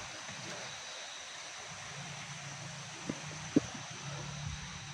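Steady broadband rush of a river flowing somewhere below, continuous and fairly faint, with a couple of brief knocks partway through and no voices.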